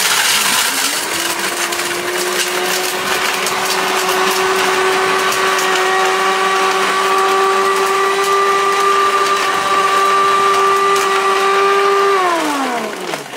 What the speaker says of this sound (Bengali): ব্লেন্ডারের কাজ দেখেন